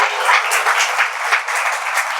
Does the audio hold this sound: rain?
no